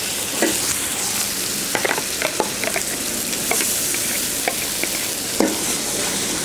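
Ground chili paste with dried shrimp being stirred and fried in a pan, a steady sizzle with scattered scraping stir strokes throughout, fairly close and without talk.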